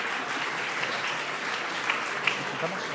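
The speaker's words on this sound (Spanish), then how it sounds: "un fuerte aplauso para Susana Grau" Audience applause greeting a speaker at a talk on competition law, a steady wash of clapping from a crowd at moderate distance, with a few louder claps standing out and voices murmuring underneath.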